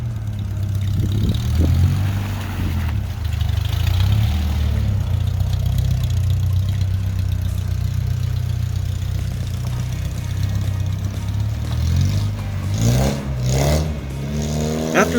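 A 1985 Toyota pickup truck engine runs steadily and loud throughout, a low idling rumble with a few revs near the end, alone without talk.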